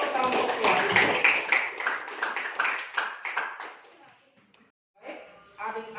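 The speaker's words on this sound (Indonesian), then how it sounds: "Tepuk tangan dulu untuk kelompok 2." In a classroom at SMPN 1 Watampone, students clap for a group that has just presented. A quick burst of close hand claps and chatter tapers off after a few seconds, and then a voice speaks.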